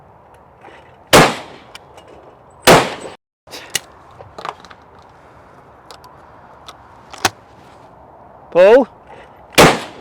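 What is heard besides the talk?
Rizzini budget shotgun firing at clays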